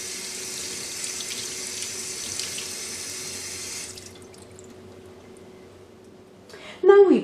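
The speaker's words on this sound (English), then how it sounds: "Rinse all the portions of the bacalao with cold water to eliminate the excess salt" Cold tap water runs steadily over portions of salted cod, rinsing them in a sink, then the flow stops and a voice briefly speaks at the end.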